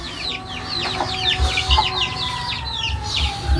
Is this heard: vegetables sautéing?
no